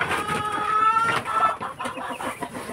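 Breeder chickens clucking close by, several overlapping short clucks and calls in a busy farm pen, fairly loud and continuous with no talk.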